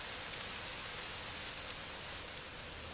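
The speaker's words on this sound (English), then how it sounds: "Oh, it's raining, alright." Steady broadband rain hiss from the Fallout: New Vegas video game, loud and continuous for the whole stretch with no voices.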